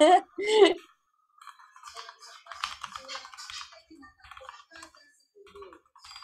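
A brief voice, then a burst of rapid keyboard typing, light clicky keystrokes in uneven runs, close and fairly quiet.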